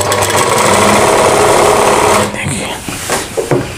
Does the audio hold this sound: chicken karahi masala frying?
no